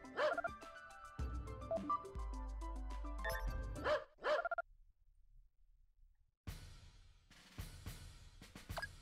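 Dogs in the video game Metal Saga bark in quick clusters of short yapping calls, set among game sounds, with a silent gap before another burst of barks.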